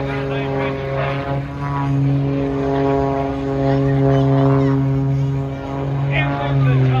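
A propeller aerobatic racing plane at the Cleveland airshow drones with a steady, loud engine hum whose pitch wavers slightly as it maneuvers, continuous throughout.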